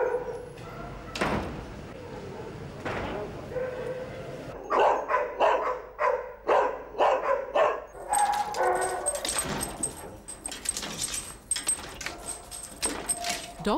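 Several dogs bark at a Battersea rescue shelter, loud sharp barks coming in bursts, some near and some farther off, with yips and a few clanks of doors or keys between them.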